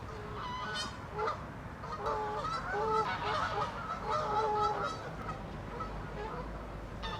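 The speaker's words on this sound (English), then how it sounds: "Them geese are doing a lot of shouting." Geese honk repeatedly in a noisy, overlapping chorus, loud and close, with calls layered continuously over a low background rumble.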